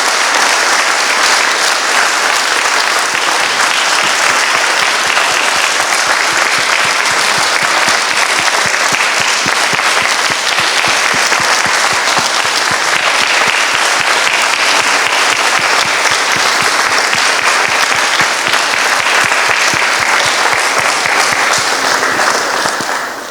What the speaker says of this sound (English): give our recipients and recognize them a strong vote of applause